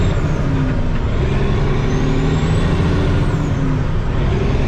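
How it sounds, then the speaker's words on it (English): A truck with a normal 8-speed gearbox drives along, its loud, close engine droning steadily with no pause. "This truck's got just a normal 8-speed in it."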